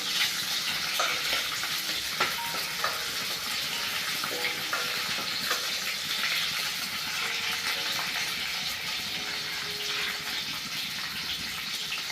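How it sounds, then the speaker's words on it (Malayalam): Green chillies frying in a pan for a potato-onion curry with roasted coconut, giving a continuous bright sizzle with occasional scraping stirs, close and fairly quiet, with no talking. "പച്ചമുളക് രണ്ടെണ്ണം ഇത്രയും ചേർത്ത് ഒന്ന് പച്ചമുളക് മാറുന്നവരേക്ക് ഇളക്കി കൊടുക്കണം"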